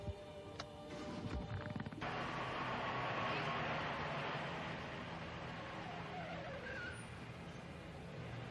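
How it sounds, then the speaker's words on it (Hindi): A car moves off and drives, a broad steady engine and road roar with tire noise that builds after a brief start and holds fairly loud, with faint voices early on. "अच्छा, चलिए आप गाड़ी शुरू कीजिए"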